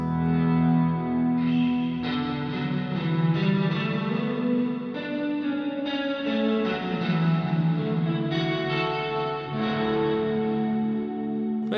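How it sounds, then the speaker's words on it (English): Guitar run through an Empress Zoia pedal set to fully wet reverb, sustained chords washing into a dense, drenched, shimmering tail with chorus-like swirl, played alone with no talking. "Now I might want to really drench the reverb."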